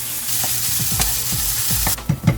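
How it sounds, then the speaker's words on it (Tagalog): Garlic and red chili frying in a pan for a spicy egg sambal, a close, steady sizzle broken by repeated scraping stirs and a few louder knocks of the utensil toward the end. "Lutuin lang natin siya hanggang sa mag-golden brown na yung garlic"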